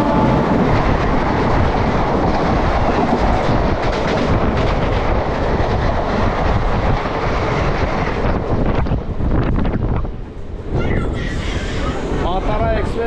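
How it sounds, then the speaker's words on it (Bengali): A Godda–Sealdah down passenger train pulls out of the station with a loud, continuous rolling rumble and clattering wheels. The sound stays close and sustained throughout, with wind buffeting on the microphone. "ডাউন গোড্ডা শিয়ালদহ ট্রেনটা বেরিয়ে গেল।"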